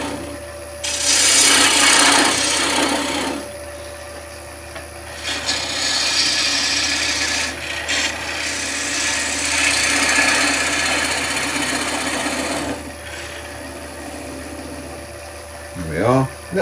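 A wood lathe gouge skims waste wood from a bowl's recess, giving several long, loud scraping rasps separated by short pauses, with a steady lathe hum underneath and someone talking briefly at the end.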